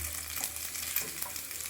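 Peanuts sizzle in hot oil in a pan, a soft, steady crackling fry at low volume with faint stirring and no voices.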